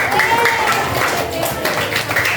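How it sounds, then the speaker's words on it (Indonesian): Schoolchildren in a classroom clap their hands in a short burst of applause, quick and fairly close, with a voice briefly heard at the start. "Ya, tepuk tangan untuk Fari"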